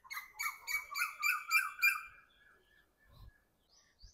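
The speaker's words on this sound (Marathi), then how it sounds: "आणि पक्ष्यांचा खूप किलबिलाट येतोय." Small birds chirp in a quick run of bright repeated notes beside a stone riverside ghat during the monsoon, loud at first then thinning out, with faint later calls and soft low thumps.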